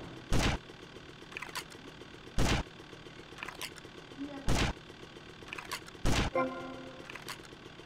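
Gunfire in the video game GTA Vice City: four loud, sharp shots spaced about two seconds apart, with faint clicks and rattles of game sound between them.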